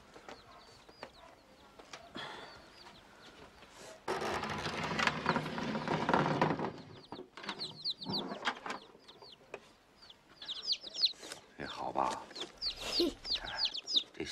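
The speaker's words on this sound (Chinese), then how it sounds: "小鸡放哪儿？" Chicks cheeping in a box, bright high chirps in scattered bursts, with people talking and a stretch of louder background noise in the middle.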